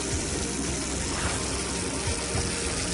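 A faucet that is not tightly closed lets water run in a steady, broadband rushing stream, continuous and fairly close, with no voices over it.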